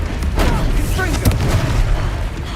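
Confringo fire-blast spell exploding during a battle in Hogwarts Legacy: a loud, booming blast with sharp pops over a constant roar of combat, with game voices underneath.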